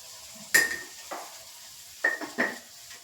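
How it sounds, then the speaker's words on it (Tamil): Green chillies with salt being sautéed in a pan for a chilli thokku: a faint, low sizzle broken by a few sharp clinks and scrapes of a spatula against the metal pan, close by, with no talking. "உப்பு போட்டு நல்லா வதக்கிக்கோங்க"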